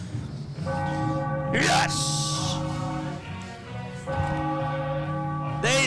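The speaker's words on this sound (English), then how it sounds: "Ring the bell" A bell rings in celebration after a Philadelphia Eagles NFC East title win, sounding in two bursts, with loud excited shouting and cheering over it.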